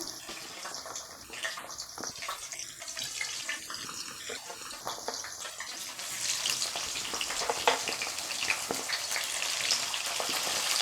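Ivy gourd pieces sautéing in oil for a gravy masala, a soft hissing sizzle that grows denser and louder in the second half after some clinks and tonal beeps near the start, no speech.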